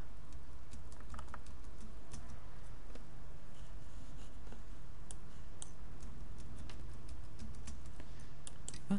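A password is typed on a computer keyboard in irregular bursts of light, quick key clicks over a quiet room background, fairly soft and close.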